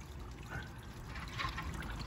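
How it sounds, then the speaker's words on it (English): Pond water pours and trickles steadily down a drain, a soft continuous splashing that swells slightly near the end, with no talking over it. "No, the water I'll put down the drain."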